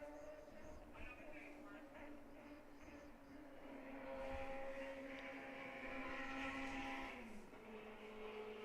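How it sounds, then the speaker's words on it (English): A motorcycle speeds down a nearby road during a women's lacrosse game, its engine rising into a sustained revving drone that swells louder midway and then drops in pitch, heard over faint background ambience. "Sounds like someone's ripping down 10 Mile on their motorcycle"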